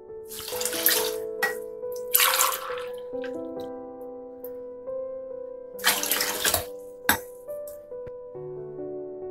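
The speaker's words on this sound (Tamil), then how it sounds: "ஓகே வாட்டர் ஆட் பண்ணியாச்சு" Water is poured into a cooking pot for sambar rice in a home kitchen, coming in several short splashing bursts with metallic clinks and drips between them, moderately close and otherwise quiet.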